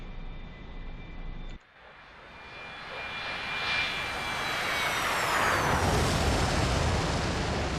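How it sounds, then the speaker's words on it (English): A-4E Skyhawk jet engine spooling up to full military power for a catapult launch in DCS World, a steady loud roar with rising whine that swells and builds over several seconds after a brief dip, with no talking. "work the stick and throttle to full military power, and the catapult will launch automatically"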